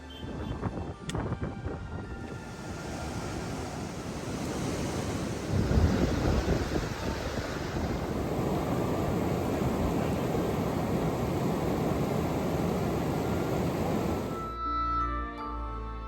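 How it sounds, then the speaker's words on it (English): A river flows beside a trekking trail in a Kashmir valley, its rushing water a steady, fairly loud broadband wash that rises after a brief start and holds evenly before cutting off near the end. "Trekking in beautiful valleys of Kashmir with the river flowing right beside us was no less than a dream for me."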